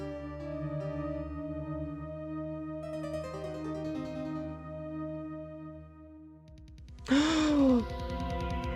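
A short, bright gasp voice effect from the Phoenix Wright: Ace Attorney video game rises over steady, sustained synth music near the end.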